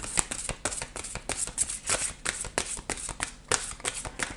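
Oracle cards shuffled by hand, heard close as quick repeated riffling bursts in a steady rhythm, clear and without talk.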